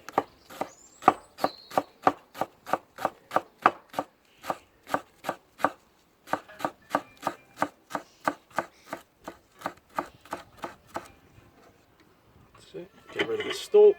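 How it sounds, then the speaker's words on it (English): Parsley and basil, bunched together, finely chopped with a knife on a board: a steady run of sharp, evenly spaced knocks, close and clear, pausing briefly midway before resuming, then ending in a shuffle of handling. "we're going to grab the parsley and our basil and get them all together in a nice little bunch like that and finely chop them"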